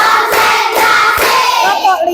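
A classroom of students clapping four times on command, a few distinct hand claps spaced through the brief moment, close and fairly loud.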